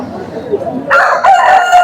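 At a rooster and sheep market, a rooster lets out a loud, drawn-out crow partway through, following a stretch of low chatter and market bustle.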